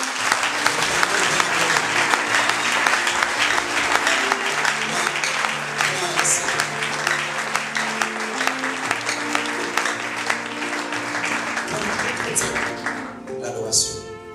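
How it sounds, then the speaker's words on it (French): A church congregation applauds during a worship service, with sustained, dense clapping and cheering over instrumental music and voices, loud throughout. "Continuons à adorer Dieu par nos acclamations."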